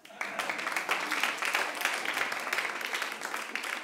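Comedy show audience breaking into applause, dense clapping that starts abruptly and holds steady, fairly close, with a voice faintly mixed in.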